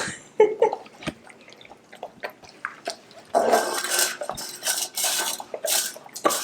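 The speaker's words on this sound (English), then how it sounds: "He's licking the bowl clean." Gunnar the dog licks his food bowl clean, the bowl clinking and clattering against the floor in quick, irregular knocks, close by with no talk over it.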